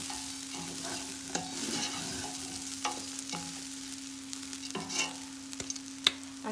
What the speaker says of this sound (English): we're gonna stir this up a little